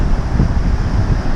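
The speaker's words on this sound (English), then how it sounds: "See that wave breaking?" Surf breaking on an open South Australian beach, a steady loud wash of rolling waves mixed with wind buffeting the microphone, no voices.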